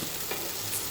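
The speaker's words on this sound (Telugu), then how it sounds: "వీటిని ఇంకా మంచిగా ఫ్రై చేసి తీసి పక్కన పెట్టేద్దాం" Tomatoes with tamarind frying in a little oil with turmeric for a tomato-chili chutney, giving a brief, soft, even sizzle heard close up with no voices.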